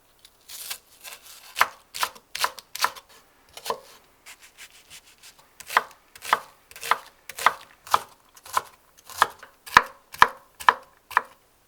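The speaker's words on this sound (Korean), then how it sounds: "표고버섯과 채소들은 잘게 다진다." A knife chops shiitake mushrooms and vegetables finely on a cutting board, with close, crisp knocks that come sparse at first and then settle into a steady, quickening rhythm of a dozen or more strokes.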